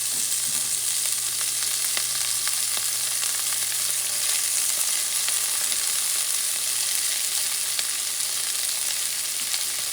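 Chopped green onions sizzle loudly in hot oil over medium heat, a dense continuous frying hiss with scattered crackles and no talk.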